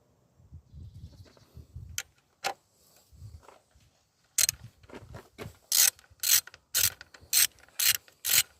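Ratchet fitted with an E10 socket working on the rocker cover of a Vauxhall Corsa D 1.4 engine, with scattered clicks and rubbing at first, then a run of loud, regular ratcheting bursts close by.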